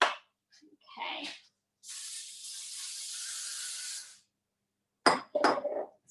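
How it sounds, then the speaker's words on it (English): Oil sprayed from a spray can onto a doughnut pan, one steady hiss of about two seconds, close and fairly loud, with speech before and after. "So get your spray oil, and we want to spray it really, really well."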